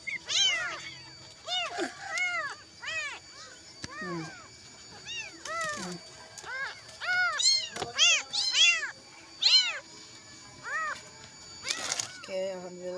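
A kitten cries for its mother with repeated high, wavering meows, some short and some drawn out, coming close and loud in uneven bursts for the whole stretch, with brief pauses between calls.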